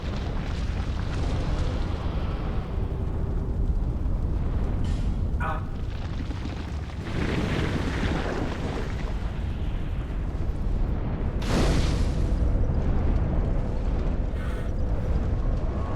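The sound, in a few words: small explosion in the video game Dark Souls II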